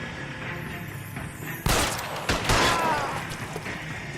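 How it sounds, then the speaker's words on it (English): Gunfire in the L.A. Noire video game: a sudden loud burst of shots rings out, then a second cluster of sharp reports follows with a lingering echoing tail over a low background rumble. "What the hell is you shooting at, fool?"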